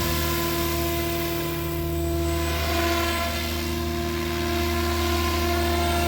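A Sab Goblin 570 RC helicopter on 6S power holds its rotor at a steady 1800 RPM, a continuous close whine with strong harmonic tones and airy rotor wash, unbroken for the whole stretch.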